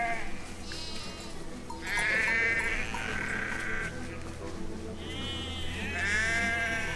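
Sheep in the video game Valiant Hearts: The Great War bleat several times, the wavering calls coming in separate bursts over a steady low game background.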